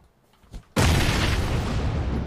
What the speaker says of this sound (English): I'm gonna nade and then just push in